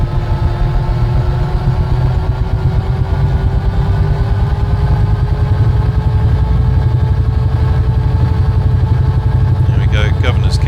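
A UH-1H Huey helicopter turbine spools up in a flight simulator game, a steady loud drone with rising whine tones throughout and a few sharp clicks near the end.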